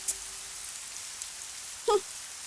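Steady rain hisses softly in the background, a faint even wash with a brief louder knock near the end and no speech.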